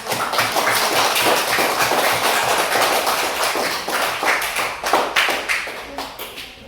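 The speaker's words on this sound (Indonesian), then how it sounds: "kita berikan tepuk tangan" A classroom group claps after a student presentation during a practice-teaching lesson on multiplying integers: dense, steady applause that thins and fades toward the end.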